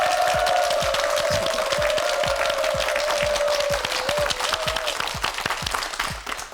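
A studio audience at a Korean television word-quiz show applauds a contestant, with a sustained patter of clapping while a tonal music or sound-effect line runs above it, tapering off toward the end.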